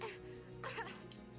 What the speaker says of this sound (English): he's having another coughing fit